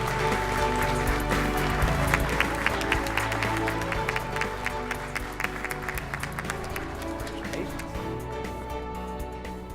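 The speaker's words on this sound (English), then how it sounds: "Ladies and gentlemen, continue your applause for Sheila Rivano-Condino." Audience applause at an engineering educator awards ceremony, steady clapping from a large crowd that fills the room and gradually thins toward the end.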